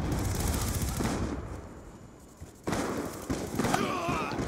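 Remington shotgun gunfire in Call of Duty Black Ops 2 multiplayer, with dense, sharp blasts and bursts filling the mix, then a brief lull before loud shots resume.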